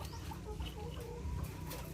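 Farm hens give faint, scattered clucks over a steady low rumble, the calls brief and somewhat distant.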